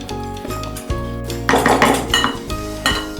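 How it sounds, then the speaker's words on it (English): A spoon scrapes and clinks against a bowl while cornbread stuffing is mixed, with close, uneven strokes and knocks and no talking. "So now just give this a big ol' mix."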